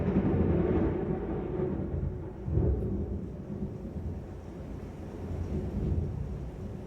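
Thunder from a lightning storm rolls as a continuous low rumble, loud and steady with a swell partway through, and no voices over it.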